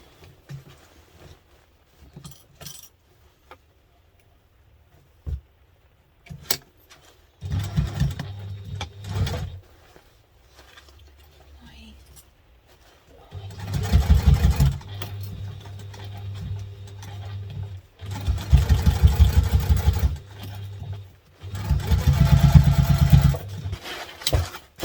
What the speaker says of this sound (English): Now we sew this one with a slightly different seam allowance